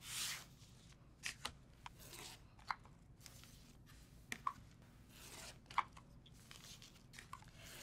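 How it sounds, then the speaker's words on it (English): Scissors cut along the solid lines of fabric for flying geese quilt blocks, giving a quiet series of short, separate snips and crunches spread across a calm stretch with no talk. "So I'm gonna cut exactly on the solid lines."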